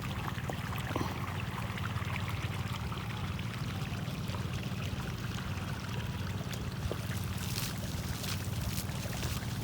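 Water pours and streams steadily while irrigating sandy soil, a continuous rushing flow with a low pump-like drone underneath, close and unbroken throughout.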